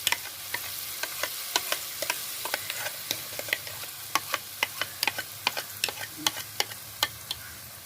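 Ground coconut paste is stirred in ghee in a pan for coconut halwa, a soft sizzle under repeated crisp ticks of the spoon scraping the pan at an irregular, unhurried pace.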